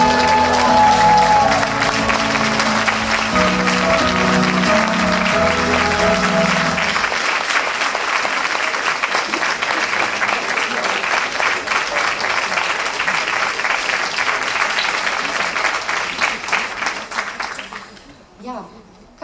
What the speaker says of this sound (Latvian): ovācijām skanot, mest cepurīti gaisā